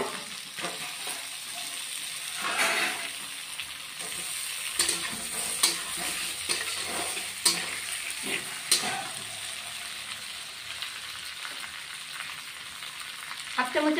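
Potatoes frying in a pan for a Bengali mustard egg curry, a continuous close sizzle broken by frequent spatula scrapes and clicks, with no talk.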